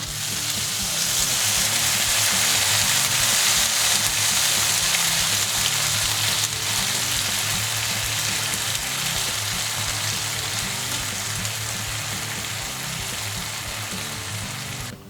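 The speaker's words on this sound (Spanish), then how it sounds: "lo dejamos cocer a fuego suave, que esté hirviendo sin parar" Black rice with broth, three parts water to one of rice, bubbles in a pan over gentle heat, giving a dense, steady sizzling and bubbling hiss that stays even throughout.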